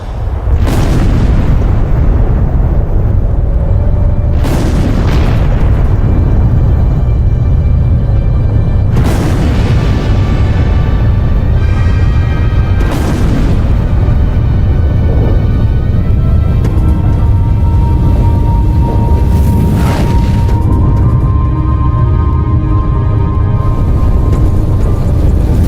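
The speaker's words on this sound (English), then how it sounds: "they decide to detonate" Weapons test detonation: a series of heavy booming blasts at a test site ringed with instruments, several deep loud explosions spaced a few seconds apart over a constant roaring rumble, with no voices.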